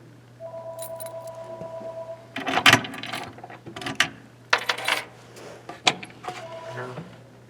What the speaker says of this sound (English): And now the bottom lock is the round key.